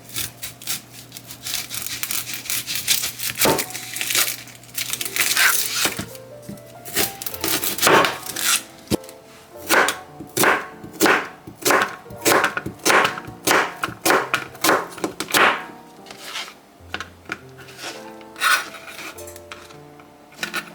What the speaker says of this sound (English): And I'm gonna go ahead and cut the onion.